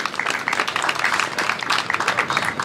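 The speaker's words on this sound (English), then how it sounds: "I think they deserve a round of applause for sure." Audience applause at the Franklin Street Festival with Santa Clara University, a steady dense patter of many hands clapping throughout, fairly loud and continuous with no pauses.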